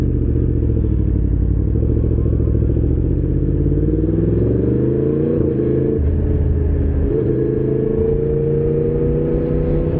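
A Yamaha MT-10SP motorcycle accelerating at full throttle in ride mode B, a loud continuous engine roar rising in pitch through the gears, with steady wind and road rumble throughout.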